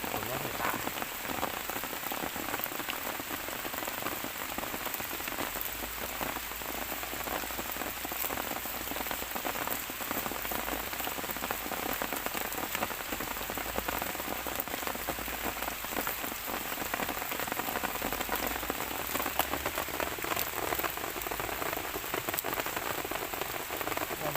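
Steady rain patters on the ground and surrounding foliage during termite mushroom digging, a dense, even wash of drops that continues unbroken from start to finish at moderate volume.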